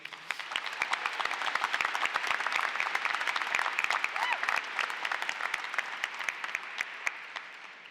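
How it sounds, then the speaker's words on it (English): A high school graduation crowd claps for supporting family and friends, a loud, continuous wash of applause with many crisp individual claps that holds steady throughout. "Can we give a round of applause to the family and friends that are here supporting us today?"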